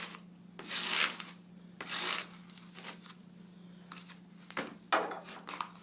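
The serrated blade of a Victorinox One Handed Trekker knife saws through material in about five rasping strokes. Each stroke gives a loud, gritty scrape up close, over a steady low background hum.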